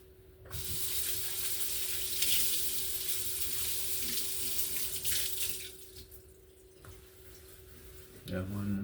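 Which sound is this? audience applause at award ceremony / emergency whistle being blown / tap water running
tap water running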